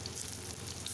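Onion pakora frying in hot oil over a medium flame, a steady close sizzle with fine crackling, alone without talk.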